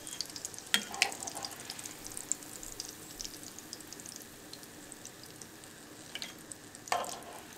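Zucchini slices frying in oil in a pan, a steady soft sizzle with a few brief sharper crackles and spatters, close and alone.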